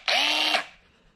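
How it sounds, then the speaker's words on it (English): A small angled cordless drill spins up in one short, loud burst of whirring motor whine that stops abruptly and leaves a faint fading tail. "I've always kind of wanted a little angled drill like this."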